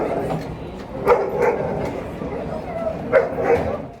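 A dog at an airport barks in a few short bursts over busy terminal chatter and background noise, the yips moderately loud and spread across a few seconds.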